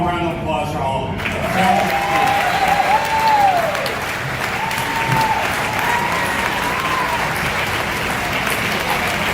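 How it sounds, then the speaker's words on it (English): Audience applause at a Navy ship commissioning dinner in New York City, a steady, full clapping from a large room lasting throughout, with some voices mixed in near the start. "A little round of applause for all of them"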